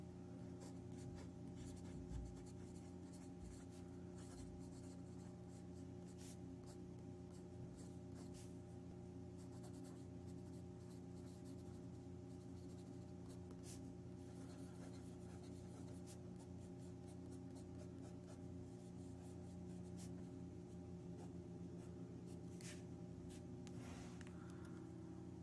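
A fountain pen with a 1.1 stub nib scratches across paper in short, quiet strokes, close and faint, against a low steady background hum.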